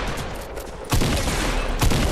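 Gunfire in Fortnite rattles in a dense, loud volley that intensifies midway and keeps going without a break.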